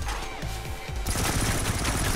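Rapid sustained machine-gun fire from an automated turret in the video game Payday: The Heist, a continuous loud burst of shots that swells louder halfway through.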